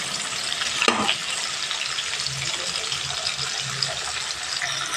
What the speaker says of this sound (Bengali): গ্যাসের ফ্লেমটা মিডিয়ামে রেখে আলুটা ভেজে নিতে হবে